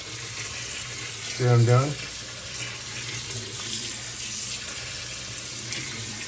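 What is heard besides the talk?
water from a tap filling and soaking pads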